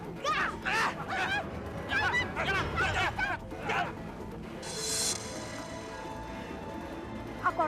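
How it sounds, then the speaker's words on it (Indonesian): A goose honks in a rapid run of harsh, nasal calls up close during a scuffle over the bird, followed by a brief crash and lingering background noise. "Aku harus merebut angsa jemaah Salman itu."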